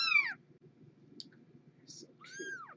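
Kittens around three and a half weeks old give a few thin, high meows, one at the start and another near the end, over soft low background sounds.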